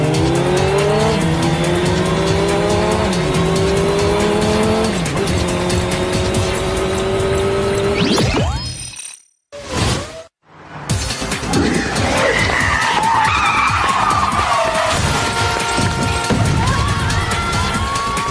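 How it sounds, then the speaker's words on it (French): Cartoon motorcycles from the Totally Spies animated series race past with loud revving engines and squealing tire skids, broken by a brief near-silent gap before the roaring chase resumes. "Les motos du Whoop viennent à votre rencontre."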